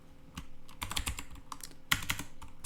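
Someone typing code on a computer keyboard, with quiet clusters of clicky keystrokes in uneven bursts and short pauses between, heard up close.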